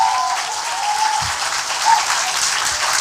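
A live audience applauds in a dense, steady burst of clapping that runs for about three seconds at even loudness, with no talking over it.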